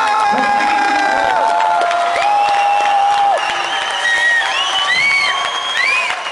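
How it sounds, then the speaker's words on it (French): Thunderous applause fills a hall at a dubbing conference tribute, with dense clapping, cheers and whoops throughout, while faint high voices and whistles cut through the crowd noise. "Et je vous demande un tonnerre d'applaudissements."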